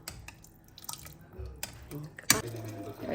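Water splashes and drips into a pot of home-cooked meat curry in faint, brief bursts, with one sharper splash near the end, over a quiet kitchen background.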